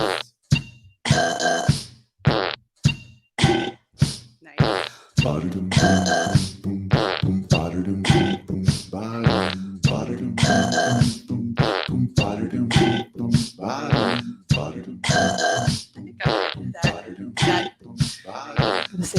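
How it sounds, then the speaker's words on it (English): Burp and fart keyboard playing fart sound effects: a quick run of loud, close, brassy sputtering bursts, some short and some drawn out, separated by brief gaps. "Got my burp and fart keyboard here,"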